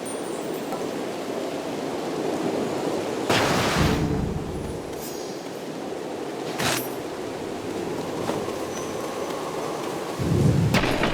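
A thunderstorm in the video game Hades II: steady loud rain and rumbling with sharp thunder cracks breaking in three times, the last one heavier and rolling.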